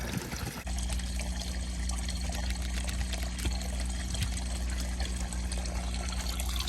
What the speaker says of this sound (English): when this water starts pouring out